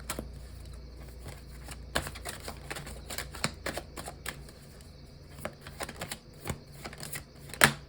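Tarot cards are shuffled and drawn by hand in a quiet room. Soft irregular riffles and flicks are followed by a few sharper taps as a card is pulled and laid down, with no talking.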